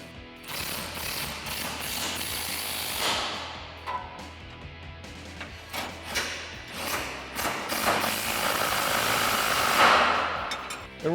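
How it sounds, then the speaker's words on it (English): Ratchet with a 15mm socket tightening upper control arm bolts on a 2014-2020 Ford F-150 during a lift kit install; close, busy clicking and metallic ratcheting with occasional thumps, continuous and fairly loud. "we can tighten them down using our 15mm socket and our 18mm wrench"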